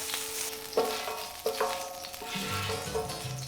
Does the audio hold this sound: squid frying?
yes